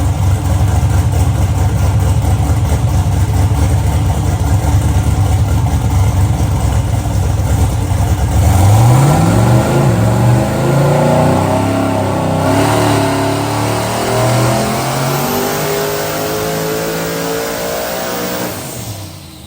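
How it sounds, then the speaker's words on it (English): A car on a dyno pulls hard up to about 7,300 rpm, its engine note climbing steadily from a loud drone into a high, sustained wail before easing off, close and very loud with no talking. "Motor sounded nice and healthy."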